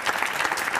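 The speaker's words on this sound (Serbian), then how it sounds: "Molim vas, aplauz." A studio audience at a television quiz show claps in a short, dense burst of applause, loud and close, with no talking over it.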